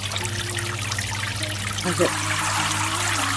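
Water trickling and splashing steadily as a small budget DIY garden pond for wildlife is filled, a continuous close pour that grows a little louder, with a brief spoken question partway through.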